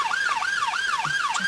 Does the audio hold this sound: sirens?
yes